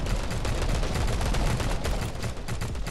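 A new assault rifle in Guns of Boom fires explosive rounds in a long, loud, unbroken burst of rapid shots with dense booming impacts.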